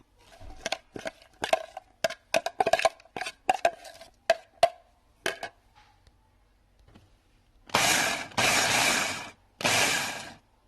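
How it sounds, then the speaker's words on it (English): Small kitchen blender chopping horseradish charoset for a Passover table. It opens with a burst of quick clicks and taps, then three loud pulses of whirring follow in close succession. "I'm going to put this in a small little blender I have here"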